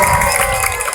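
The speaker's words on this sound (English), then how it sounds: "Feel free to cheer her on." Loud crowd cheering and shouting, children's voices among it, rises steadily for a dog named Willow as she races down a track, a dense continuous roar with no pauses.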